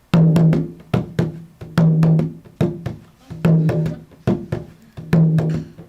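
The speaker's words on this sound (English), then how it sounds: "if you slightly put a little bit of a twist on it and a little bit of swing in it," A swung drum groove with loose, laid-back timing, bright slaps and booming low tones repeating in a relaxed pattern.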